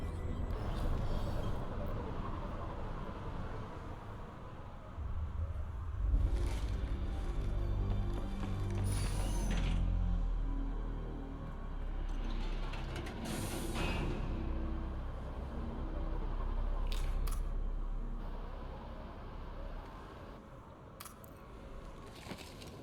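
The council elevator in Mass Effect 3 runs with a low mechanical rumble and grinding, ratcheting clanks, building and surging over a long stretch with a few sharper metallic hits.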